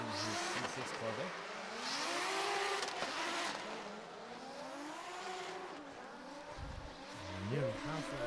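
A C6 Corvette drift car runs at a drift championship, its engine revving and wailing through rising and falling pitches at a distance, with tire noise and a commentator talking over it.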